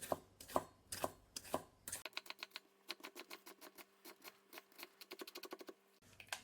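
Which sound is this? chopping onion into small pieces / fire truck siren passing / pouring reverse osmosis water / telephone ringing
chopping onion into small pieces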